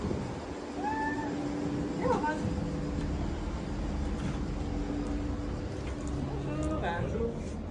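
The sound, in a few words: cat meowing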